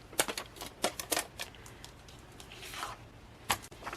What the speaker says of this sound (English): I'm going to put my strip over here, cut this one over here, and stick it all down and punch it.